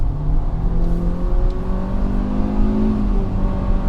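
Hyundai car engine revving under throttle during a test drive, a loud steady drone rising gradually in pitch from the cabin, heard alone without talk.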